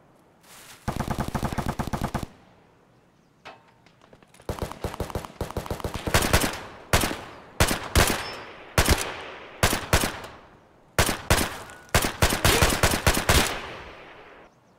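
Automatic gunfire in the video game Escape from Tarkov, several loud close bursts, some long and some short, with brief gaps between them and no talk.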